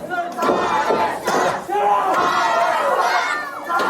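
A wrestling event crowd at a retro rasslin' show shouts and cheers loudly and continuously, with bursts of yelling swelling and dipping throughout, no announcer talk over it.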